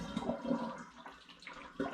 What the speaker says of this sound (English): I'm going to pour the pan in now, but I'm trying to avoid the bits of lavender going in there if possible